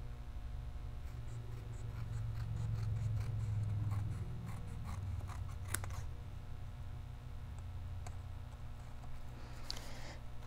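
Scissors snip through paper while cutting out shapes for a small stamped donut box, a string of soft close clicks and crisp cuts over a steady low room hum.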